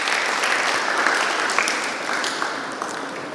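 A church congregation bursts into loud, even applause, a thick, close clatter of many hands that runs steadily throughout.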